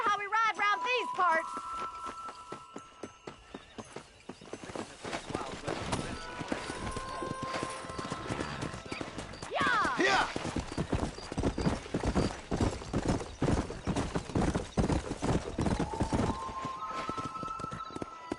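Horse hooves clip-clopping at a riding pace in Red Dead Redemption, a steady rhythmic patter that speeds up and continues throughout, with a neigh near the start and in the middle and people talking over it.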